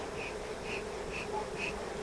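Honey bees buzz steadily in an open, densely packed hive being worked with smoke, a continuous close insect drone with faint repeating higher tones over it and no talking.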